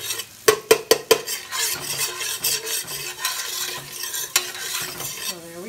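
Garlic stirred and fried in olive oil in a pan while making spaghetti carbonara, with a quick run of sharp utensil taps against the pan first, then a steady sizzle under repeated scraping and clinks.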